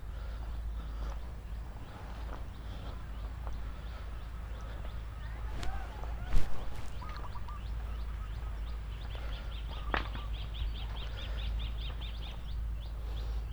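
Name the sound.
wild birds chirping at a park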